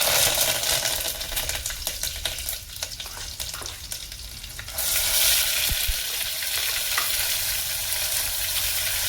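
Curry leaves dropped into hot cooking oil: crackling and sputtering with sharp pops, swelling into a louder, dense hiss midway as the leaves hit the oil, continuing steadily near the mic.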